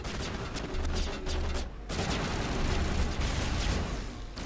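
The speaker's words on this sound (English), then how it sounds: "Something shooting behind me?" Rapid, dense gunfire from the video game Mass Effect, played on Insanity difficulty: continuous loud bursts and volleys rattling almost without pause, with one brief lull partway through.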